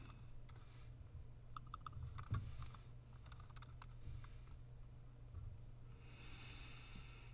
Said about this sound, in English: I'm going to have to type it in manually, of course.